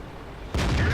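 A tank cannon fires in the World of Tanks game: a quiet rumbling background, then one sudden, loud, sharp blast halfway through that carries on as a booming roar.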